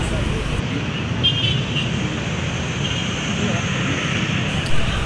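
Dense night traffic in a capital city after 9 pm gives a steady low rumble of engines, with faint hints of a horn within the constant roadway noise.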